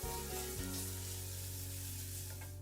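Onion sweating in oil in a pan while butternut squash is prepared, a soft continuous sizzle with a low hum underneath, steady and moderately close, no voices.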